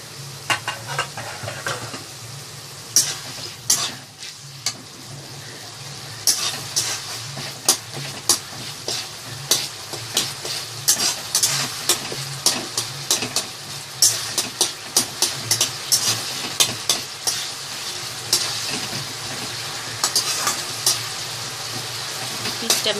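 Tomato fish curry sizzles and spits in a pan on the stove, a steady bed of frying noise broken by many sharp crackles and pops, fairly close, with no voices.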